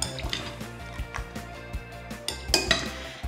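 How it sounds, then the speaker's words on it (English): Pork being mixed into marinade in a bowl, a spoon clinking and scraping against the bowl in steady repeated strokes, close and moderately loud, with no talking. "Now the pork goes into your marinade. Let's give that a really good mix."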